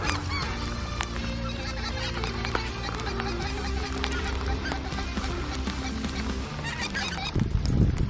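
Many specklebelly geese honk loudly and continuously in a noisy, overlapping chorus, close by, during a hunt in northeast Arkansas, with a rustling thump near the end.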